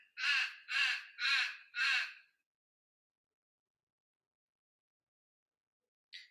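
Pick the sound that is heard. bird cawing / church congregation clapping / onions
bird cawing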